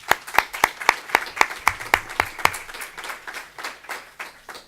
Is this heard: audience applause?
yes